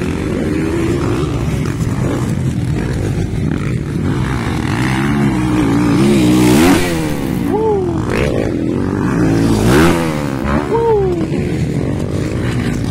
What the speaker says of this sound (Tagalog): Napakalakas na motor. Iba talaga ang Kawasaki